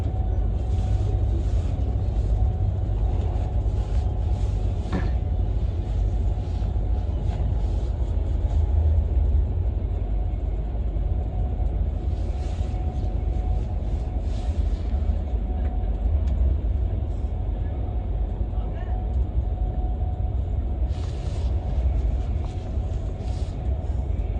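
Train in the Train Simulator video game on the West Coast Main Line South Route, a continuous steady rumble of rolling wheels and motor running alone, with a faint hum throughout.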